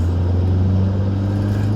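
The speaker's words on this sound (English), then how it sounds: "I just stalled my car and then roll started it" A car engine running steadily just after being roll-started from a stall, a loud, constant low hum with no gaps or revving.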